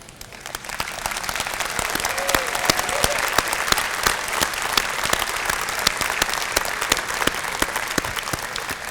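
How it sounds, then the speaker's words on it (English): Dense, sustained applause fills a hall as Sports Hall of Fame members stand to be recognized, with crowded clapping going on steadily at even loudness throughout. "would you please stand for applause?"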